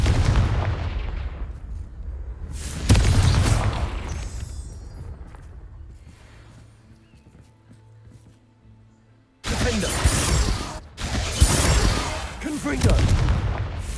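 Confringo fire spell blasts in Hogwarts Legacy: one loud explosive burst that slowly fades into a quiet lull, then a second stretch of heavy, booming explosions that lasts several seconds.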